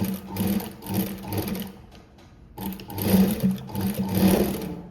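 A sewing machine stitching a dart on a neck-to-waist dart blouse runs in two close bursts of rapid, even whirring with a short pause between them.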